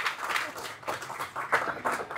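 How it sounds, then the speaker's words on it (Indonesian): A short burst of lively applause at a community gathering, with dense scattered clapping that sounds fairly soft and somewhat distant. "Beri tepuk tangannya meriah."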